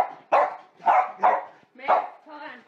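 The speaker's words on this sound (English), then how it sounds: "as my dogs bark outside, I don't know if you can hear them" Dogs barking outside in a few separate bursts, the barks rough and moderately close, spaced unevenly, and the last one trailing into a softer yelp.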